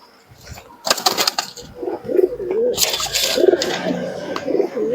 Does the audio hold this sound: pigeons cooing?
yes